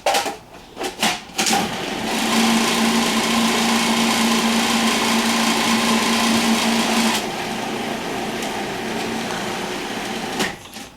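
A mixer whirls Brooklyn New York cheesecake batter with cornstarch: a few knocks, then a loud steady motor whirr that drops to a lower pitch partway through before cutting off with a clack.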